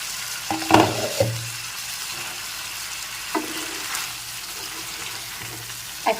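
Achari aloo dum potato curry being stirred in a pan, a soft background sizzle broken by a few scraping spoon strokes and clinks, mostly near the start, with quieter stirring later.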